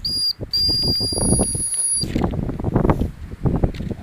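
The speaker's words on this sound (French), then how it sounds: "Elle revient si je siffle à ton avis?" A person outdoors whistles to call an animal back, giving a piercing high steady whistle, a short break, then a second long blast lasting about two seconds. Footsteps and outdoor rustling continue before and after.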